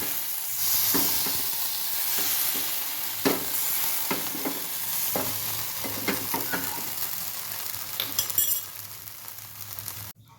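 Dosa batter poured and spread on a reused iron tawa, sizzling steadily up close with repeated light scraping and tapping strokes as it is spread and cooked, ending with a cluster of sharper clinks.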